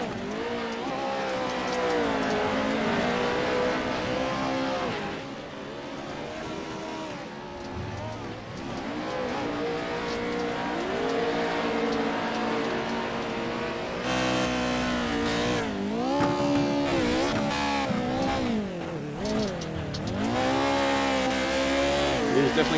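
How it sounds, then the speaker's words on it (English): Pro4 race cars in an ASP eRacing sim race at Wild Horse roar steadily with rising and falling engine pitch as they shift and corner. The engines stay loud and continuous, and a sharper revving burst comes late, with no talking. "Let's jump on to Stephen Sanderson chasing down Stephen McCowan here."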